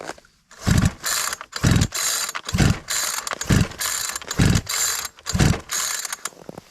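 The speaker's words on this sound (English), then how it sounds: "I'm going to pull on the ripcord until the gauge stops moving" Repeated ripcord pulls on a chainsaw during a compression test, about seven rhythmic ratcheting bursts roughly every second, each with a low thump of the engine turning over, loud and close with no talk.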